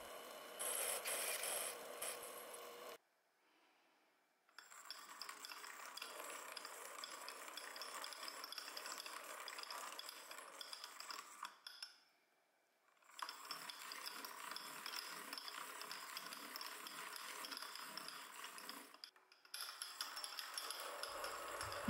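A lathe single-point threads a cast iron cylinder for a tiny 2-stroke engine, making faint, steady scraping and rattling cutting noise in passes separated by short silences.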